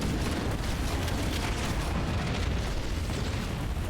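A rocket launcher explosion in Halo: Combat Evolved, a loud, dense roaring blast that holds full and rumbling for about four seconds.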